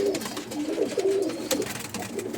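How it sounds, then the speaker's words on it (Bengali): Pigeons coo steadily at a pigeon sale of All India tournament flying birds, a close, continuous low cooing with overlapping calls and faint background noise. "দেখুন কত সুন্দর সুন্দর অল ইন্ডিয়া ওড়ানো পায়রা"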